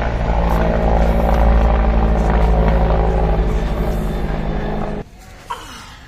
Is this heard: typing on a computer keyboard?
no